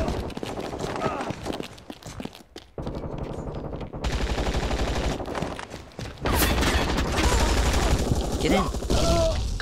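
Dense bursts of automatic gunfire and rapid shots in the ZMR video game on hardcore mode, loud and near, with brief quieter gaps between volleys and a voice talking in the background.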